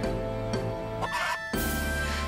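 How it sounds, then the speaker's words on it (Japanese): Chicken clucking in the RPG Time video game, a series of loud, close, sharp clucks and squawks in quick bursts over a steady background hum. "さらに登場するのは鶏。"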